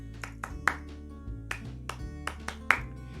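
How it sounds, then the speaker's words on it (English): Hand claps in a classroom, sharp and quick in an uneven rhythmic pattern, with a few spaced claps standing out over a quiet, steady background. "Other people use clapping patterns."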